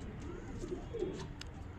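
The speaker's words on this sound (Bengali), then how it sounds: "এটা মাদা পায়রা," Low, soft cooing from a female pigeon close by, one or two brief throaty notes in a quiet room.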